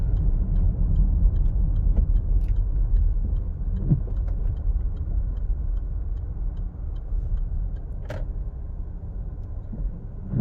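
A Land Rover Range Rover Evoque drives along with a steady low engine and road rumble heard from inside the cabin, with faint ticks now and then and no talk.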